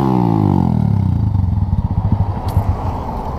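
A Titan motorcycle fitted with a competition exhaust revs close by. Its engine pitch falls from a high rev into a loud, uneven, popping idle, with no talk.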